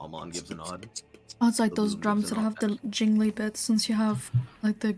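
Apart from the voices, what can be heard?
No everyday noise stands out behind the speech.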